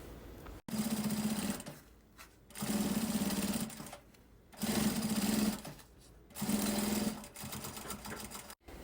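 A sewing machine topstitches a fabric pouch in four steady runs of about a second each, separated by short pauses, fairly close and without talk.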